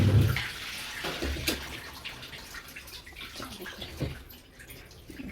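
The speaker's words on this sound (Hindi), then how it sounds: "पानी डाल" Water splashing and running into a bucket or tub while clothes are washed at home, a loud gush at the start giving way to steady trickling and small splashes.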